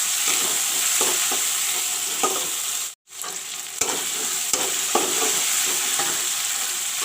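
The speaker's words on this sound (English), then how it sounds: "The garlic is turned brown. Now I will put in the tomatoes." Chopped tomatoes sizzling in a pan with browned garlic for a palak curry, a loud continuous frying hiss with stirring scrapes, briefly cutting out for a moment midway before resuming.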